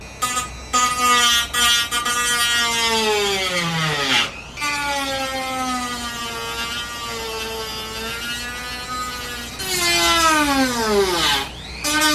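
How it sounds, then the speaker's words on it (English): A Dremel rotary tool cuts through the rear fender of a Kawasaki KLX351 motorcycle just below the license plate. Its loud, close, high-pitched whine sags and recovers under load, with brief pauses between cuts. "I'm going to cut right below the license plate right there with the Dremel"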